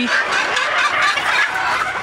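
A hen clucks close up in a dense, continuous run of throaty calls, loud and alone.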